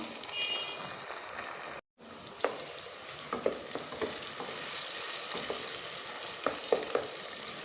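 Chopped tomatoes frying in a pan with lightly golden onions for a Lahori chickpea curry, a continuous close sizzle with scattered stirring clicks and crackles, briefly cut silent for a moment early on.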